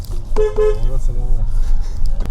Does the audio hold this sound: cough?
no